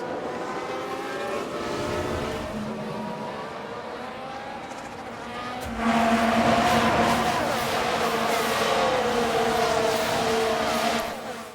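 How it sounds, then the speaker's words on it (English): An Aston Martin Formula One car spins out in the racing game F1 Manager 22, its engine droning steadily before a louder surge of engine and tyre noise swells midway and holds to the end. "This was the Aston Martin. And yes, that's where they spin out."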